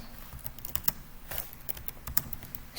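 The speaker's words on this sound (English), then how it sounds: "So I'm gonna type true" Fingers tap at a computer keyboard in a short, quiet burst of scattered clicks, close up and faint, with no voice over them.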